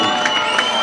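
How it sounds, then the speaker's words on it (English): A boxing crowd at a live racecourse event cheers and whoops for the fighter Ferguson in a short, loud, dense burst of many voices. "Quite a bit more support from the crowd there for Ferguson than for Baird"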